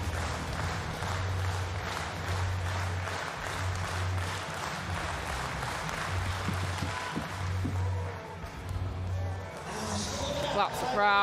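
Applause rises from the crowd at an indoor athletics meeting, a broad sustained clapping under a commentator's steady talk, swelling and thinning over several seconds.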